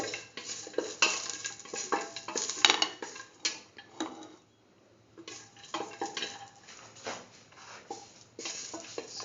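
Cashews with salt fry and sizzle in a pan under steady spoon stirring, with clinks of utensil on metal and a brief quieter pause midway.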